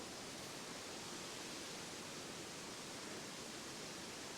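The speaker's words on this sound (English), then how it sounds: "So this is a bigger waterfall" A bigger waterfall pours over wet rock, a constant broadband rushing roar that stays even and unbroken throughout, with no voices.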